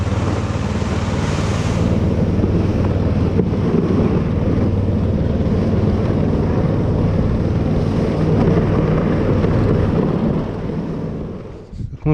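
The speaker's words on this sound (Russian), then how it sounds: "Мороза нет, так идет метель." Strong wind roars without a break through a blizzard on a taiga river, with snow falling and no frost, a loud broadband rush that fades near the end.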